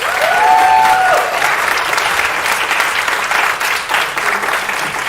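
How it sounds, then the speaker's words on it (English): Audience applausing at a composers' concert, dense sustained clapping from a full hall, loud and steady throughout with a brief tonal whistle-like sweep early on. "Let's give them another round of applause."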